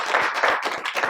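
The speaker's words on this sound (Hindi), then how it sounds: "तालियां बजाते हैं" A group of acting-audition trainees clapping together indoors, a steady, dense burst of many hands lasting about a second, with no talk over it.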